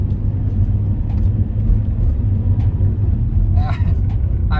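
A BMW E30 engine, a barn-find car, runs at a steady idle with a continuous low rumble close by, and brief higher chirps break in near the end.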